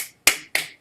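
Three crisp finger snaps from an audience at a folk music concert, spaced about a quarter second apart, each sharp and bright with a short ringing tail.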